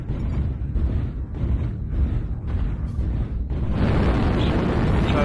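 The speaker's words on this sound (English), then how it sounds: "Artillery strike online." Artillery strike explosions in the MechWarrior Online video game, a dense, continuous rumbling barrage of booms that swells louder toward the end.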